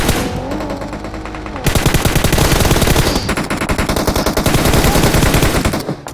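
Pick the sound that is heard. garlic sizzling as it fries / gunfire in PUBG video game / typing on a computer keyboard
gunfire in PUBG video game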